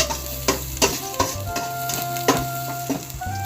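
Ginger is stirred in a pan while cooking a coconut-milk dish, with a low sizzle under a series of sharp utensil scrapes and knocks, close and fairly loud, with no talking.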